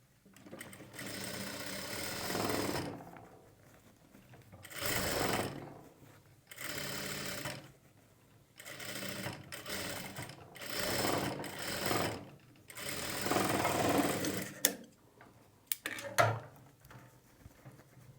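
A sewing machine double-stitches a single katori blouse in repeated whirring bursts of a few seconds each, broken by short quiet pauses and a few clicks near the end.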